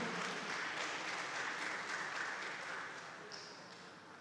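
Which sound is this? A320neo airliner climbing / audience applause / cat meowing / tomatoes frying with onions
audience applause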